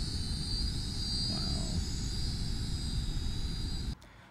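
A Syma X5UW quadcopter drone flying, its small propellers giving a steady high buzzing whine at close range, cutting off abruptly near the end as the motors stop.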